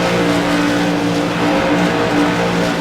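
Modified race cars on the oval at Rockingham Speedway roar steadily and loudly down the front stretch, a dense continuous engine drone with no clear pass-by peaks.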